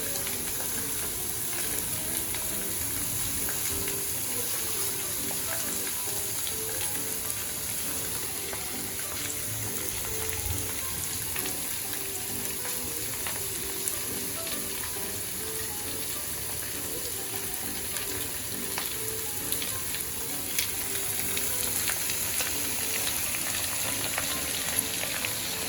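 Marinated chicken pieces for Chettinad-style chicken varuval sizzle and fry steadily in a pan, a dense continuous crackle and hiss, close and fairly loud throughout with no talking.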